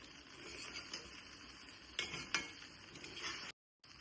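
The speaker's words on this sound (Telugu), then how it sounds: "ఇలా పోపు మొత్తం మంచిగా కలుపుకోవాలి" A spoon quietly stirs fried tempering through a pot of pongal, with soft scraping and a couple of light clinks over a faint steady background.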